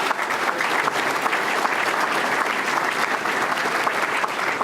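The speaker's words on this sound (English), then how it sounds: "Please give them a round of applause." Audience at a county board event applauding board members, a steady sustained wash of many hands clapping throughout, fairly close and even in loudness.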